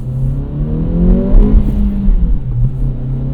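Engine of a 2023 Acura Integra with a manual gearbox, heard from inside the car. It hums steadily, then dips and rises in pitch through an uneven, jerky gear change.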